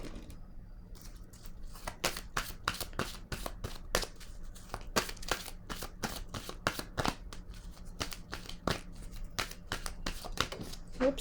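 Tarot cards being handled and laid down make a rapid run of crisp, close card snaps and flicks, dense and fairly regular, with soft rustling between strokes and no talking.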